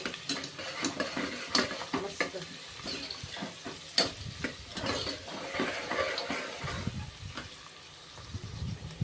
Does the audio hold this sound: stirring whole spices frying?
yes